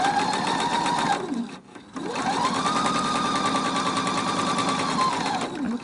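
A sewing machine stitches a decorative fabric face mask in two steady, rapid runs, pausing briefly with the needle down before a second longer burst, loud and close with no talking.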